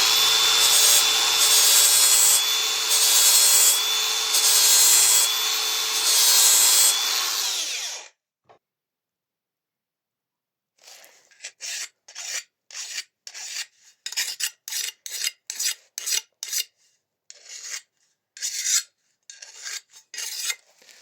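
Grinding a 30-degree bevel onto a steel mower blade: a steady, loud abrasive rasp for about eight seconds, then silence, followed by a run of short, sharp scraping strokes in quick succession.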